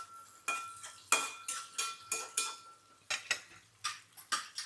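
Onions and green chilli pieces stirred in hot oil in a pan, a spoon scraping and clinking against the metal in about a dozen quick, close strokes over faint frying.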